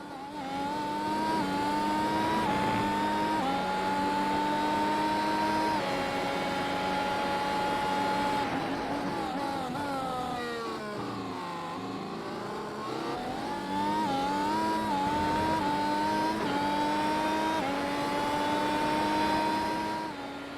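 An F1 car's engine heard on board at Circuit Gilles Villeneuve in a racing video game, a loud sustained high whine that climbs and drops through gear changes and braking over about twenty seconds.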